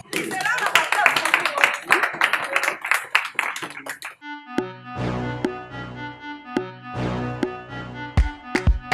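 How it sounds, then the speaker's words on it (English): Applause at a birthday celebration: a dense burst of many hands clapping for about four seconds, loud and close, followed by music with a singing voice. "Is a round of applause for her."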